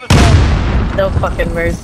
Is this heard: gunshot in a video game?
yes